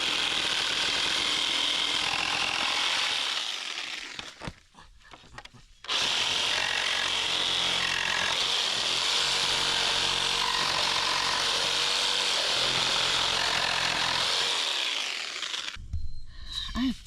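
Reciprocating saw fitted with a carbide blade cutting apart pallet wood, a loud continuous close-up buzzing cut with a brief pause near the start and a stop at the end, no talk.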